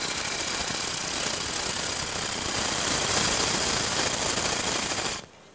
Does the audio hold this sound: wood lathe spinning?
yes